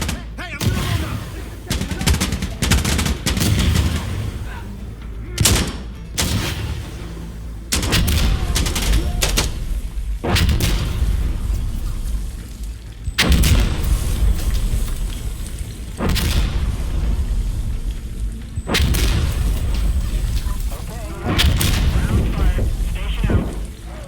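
Heavy gunfire and explosions in Insurgency Sandstorm, with repeated loud booms and dense bursts of rifle and machine-gun fire through a close, sustained firefight, over a constant rumble.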